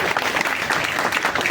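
Loud, steady applause from an audience at a party state office event honouring Rohit and his social media team, dense clapping sustained throughout without pause.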